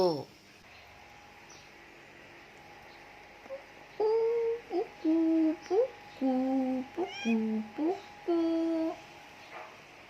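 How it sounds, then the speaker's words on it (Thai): A cat meows repeatedly in a series of short, clear calls up close, with a voice briefly audible at the start, as it begs for coffee. "มาชมแมวอยากกินกาแฟ"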